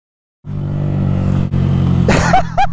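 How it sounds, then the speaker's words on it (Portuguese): A Honda Fan motorcycle with a modified exhaust idles and revs loudly up close at night, its engine rumbling steadily before sharp throttle blips near the end. "Eu já tava já com a moto engatada pra acelerar"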